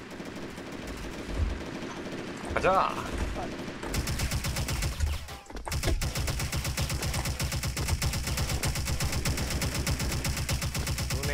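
Rapid automatic gunfire from the online shooter Special Force rattles in a dense, continuous stream, loud and close, with a brief voice and a short lull before the firing intensifies.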